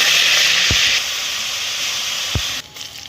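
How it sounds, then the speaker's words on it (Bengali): Cauliflower pieces fry in hot oil, a loud sizzling hiss that drops a little after a second, with two thuds of a utensil before it cuts off abruptly. "ফুলকপিগুলো ভেজে নেব।"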